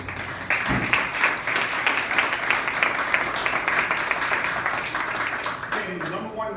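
Dense, sustained applause from a crowd at a memorial gathering fills the room for several seconds before tapering off at the end.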